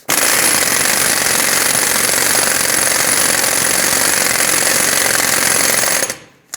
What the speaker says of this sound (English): I'm going to bottom this out with my air gun, and then we're going to torque it.